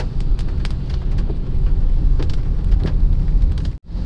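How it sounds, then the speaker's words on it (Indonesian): Heavy rain drums on the roof and glass of a car parked in city traffic, a dense, continuous patter with scattered louder drops, heard from inside the cabin and briefly cutting out near the end. "di sini hujannya lumayan loh"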